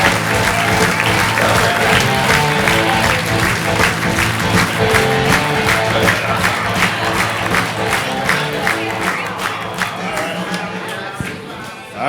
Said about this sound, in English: Ladies and gentlemen, clap right now for Mr.